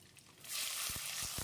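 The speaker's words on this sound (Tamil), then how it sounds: "வெங்காயத்தை கண்ணாடி பதத்துக்கு வதக்கிடலாம்." Steady hissing sizzle of small shallots frying in a hot pan with curry leaves, rising after a quiet start, with a few soft scraping stirs.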